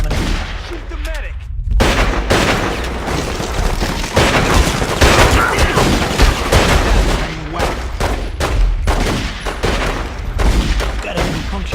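Dense gunfire in the Godfather 2 video game, loud rapid shots and booming bursts crowding together almost continuously after a brief quieter moment at the start.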